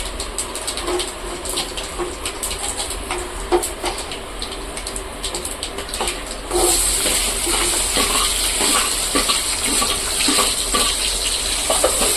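Small onions (shallots) sauté in hot oil in a pan for fish curry, a continuous close hiss that jumps noticeably louder and brighter partway through, with occasional stirring clicks.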